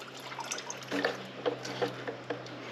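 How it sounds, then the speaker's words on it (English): Gasoline drips from the drained bowl of a Briggs & Stratton 6.75 carburetor on a log splitter, a faint series of soft, irregular drips over a steady low background hum. "We'll drain some out the bottom."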